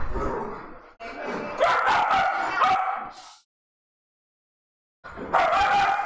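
Dogs yip and bark loudly at close range in a busy flurry, go silent for a moment, then start up again.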